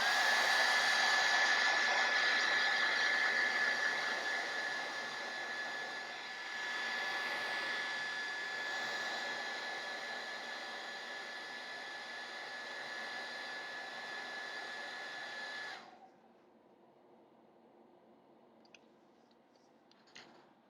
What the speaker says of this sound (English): Blast these models with a hairdryer.